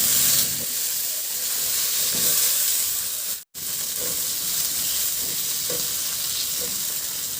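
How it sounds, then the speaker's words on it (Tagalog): Onion and tomato sizzle and fry steadily in a hot pan. The loud hiss is continuous, with a brief cut near the middle and soft stirring scrapes underneath. "Igisa ko na rin yung sibuyas. Maglagay na rin ako ng kamatis."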